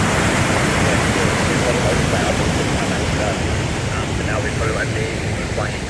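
Heavy rushing roar of a waterfall swollen after a night of heavy rain on the Routeburn mountain trail near Queenstown, New Zealand, a steady dense broadband wash throughout, with faint voices under it.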